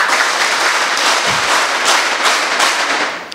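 Loud, dense applause from an event audience at Kuchchur bus stand, steady broadband clapping throughout with a few sharper bursts, no talk over it.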